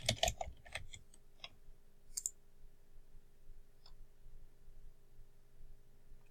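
Keys tapped on a computer keyboard in a quick burst of sharp clicks during the first second and a half, then a couple of stray taps, with near silence afterward.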